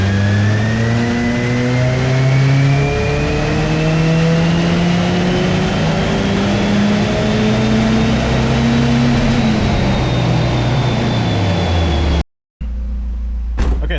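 Turbocharged Mazda Miata NC engine accelerating hard on a tuning run, a loud close rising engine note climbing through the revs for several seconds before cutting off abruptly, then a quieter idle.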